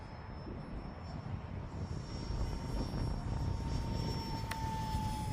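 An Eflite UMX Viper 30mm electric ducted-fan RC jet flying at half throttle, a steady whining, rushing drone that holds fairly loud and even throughout, growing slightly stronger toward the end.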